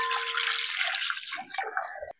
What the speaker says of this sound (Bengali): আর এইবারে আমি এই লেবুগুলো একটু গরম জলে ভিজিয়ে রাখবো। এখানে আমি উষ্ণ গরম জল নিয়েছি।